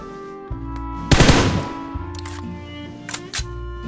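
PUBG Mobile gunfire rings out as a sharp burst of rapid shots, followed by a few scattered, more distant pops over a steady in-game background hum.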